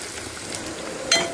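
Three medium onions fry in oil for a fish curry tempering, giving a soft, continuous sizzle with a brief clink of a utensil near the end and no talking.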